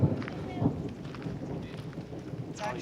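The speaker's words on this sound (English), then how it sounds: "We have rain. And now it's coming pretty good." Rain falling during a storm on a Montana Glacier road trip, a steady hiss of rainfall with low rumbling, heard at moderate distance, with brief bursts of voices.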